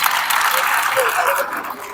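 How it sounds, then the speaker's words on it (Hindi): Audience applause at a Navratri gathering, brief dense clapping from a crowd with voices mixed in, tapering off at the end. "इनके लिए तालियां बजाएं।"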